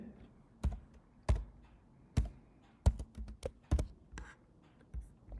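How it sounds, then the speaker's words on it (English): Keys struck on a computer keyboard while entering a formula, heard as about a dozen sharp, separate taps at an uneven rhythm with faint breathy background. "So we should type minus b over here"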